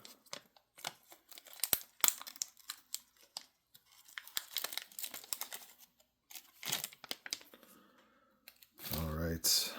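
A trading card pack is carefully torn and opened up close, producing scattered crinkles, clicks and rips of foil wrapping in short bursts, ending with a louder rustle.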